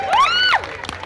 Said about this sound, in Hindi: एक बार जोरदार ताली पंकज के लिए।